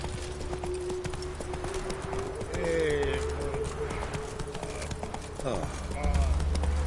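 Roach, a horse in a video game, gallops with a steady run of hoofbeats under game music while a voice speaks over it.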